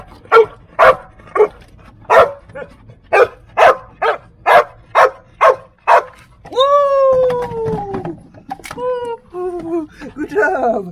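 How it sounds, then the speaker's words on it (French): A search and rescue dog at an earthquake training site with Taiwanese firefighters barks repeatedly: about a dozen loud, evenly spaced close barks, then high whining yelps and whimpers as a person speaks nearby. "et quand il va aboyer"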